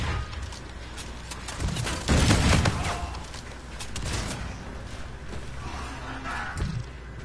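Video game gunfire heard as dense, rumbling bursts of shots and booms over a constant noisy background, with a heavier volley around the middle and scattered quieter shots, moderately loud.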